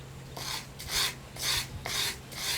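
Abrasive wrapped around a 1x2 block, filing the bevel on a forged blade: four slow rhythmic rasping strokes, each a broad hiss about half a second long, close and alone.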